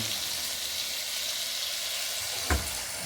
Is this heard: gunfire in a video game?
no